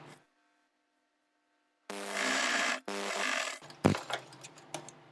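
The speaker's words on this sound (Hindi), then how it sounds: "ये हमने प्लेट्स की सिलाई लगा लेनी है" A sewing machine stitches pleats on a pair of trousers, running in two quick bursts of mechanical whirring after a stretch of near silence, then stopping with a few handling clicks and knocks.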